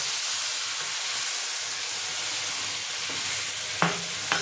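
Coconut milk tinted with a pinch of turmeric sizzles and hisses steadily in a hot pan for hilsa curry, with a couple of soft stirring scrapes near the end and no voices.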